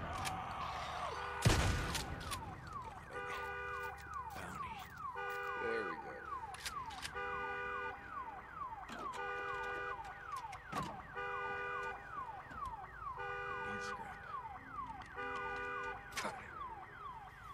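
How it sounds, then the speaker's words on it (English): An alarm in Days Gone blares in a repeating warbling electronic pattern with regular pulses, like a car alarm cycling on and off, after a sharp bang at the start. "Damn alarm."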